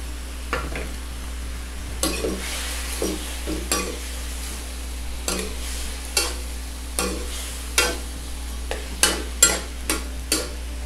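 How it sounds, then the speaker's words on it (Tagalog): Hotdog pieces frying in a pan while being stirred, with a steady low sizzle broken by a dozen or so sharp utensil scrapes and clinks against the pan, close and fairly loud. "At pwede na natin ilagay itong hotdog."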